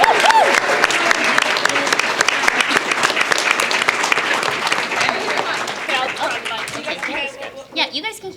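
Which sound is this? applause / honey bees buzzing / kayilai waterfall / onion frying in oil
applause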